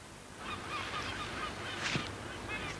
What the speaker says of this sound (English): Those birds are annoying me.